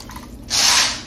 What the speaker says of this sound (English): Now I'm going to take and add to that a little water so I can get it kind of wet.